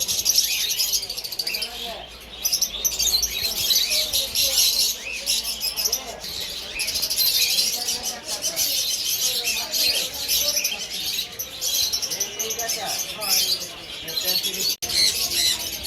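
Many caged birds at an open-air bird market chirp and tweet in a dense, continuous chorus, with a faint crowd murmur beneath.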